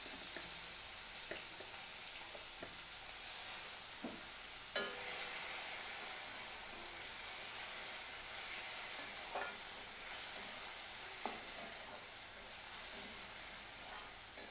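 Grated onion with nigella seeds frying in mustard oil in a kadai: a continuous close hiss of sizzling oil with occasional light clicks of a spatula. The sound gets louder and denser partway through, and there is no talking.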